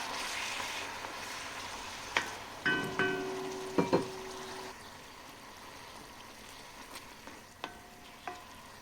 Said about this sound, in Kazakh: Осының үстіне пияз саламын. Оны да бірге қуырып аламыз жақсылап.